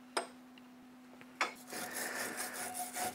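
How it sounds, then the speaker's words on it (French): A wire brush scrubbing painted wooden shutters, two sharp scrapes followed by continuous close rasping strokes in several directions, with a steady hum underneath. "vous prenez une brosse métallique. Voilà, dans ce sens-là, et vous frottez partout"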